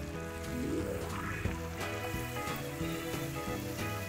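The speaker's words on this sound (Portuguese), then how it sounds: "Depois que a nossa manteiga derreteu, vamos acrescentar agora a nossa farinha de trigo. E vamos mexer até cozinhar." Butter and wheat flour sizzle steadily in a pan while being stirred, a soft continuous frying hiss with faint scraping as the roux cooks.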